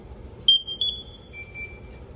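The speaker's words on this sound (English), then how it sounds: "So now, I'm just going to turn on my bottle. It's going to make a beeping noise." A firefighter's air bottle is switched on at the valve and sounds a clear high electronic beep, one sharp tone followed by a steady lower tone, alone over faint background hum.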